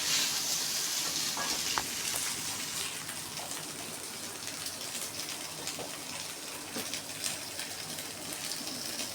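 Colocasia frying in a sizzling pan with home-ground chilli powder while being stirred with a ladle: a steady, dense crackle and hiss with faint scraping clicks, close and fairly quiet.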